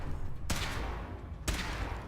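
Gunfire in Fallout 4: two sharp, loud shots about a second apart, each with a short ringing tail, over a steady background of game ambience.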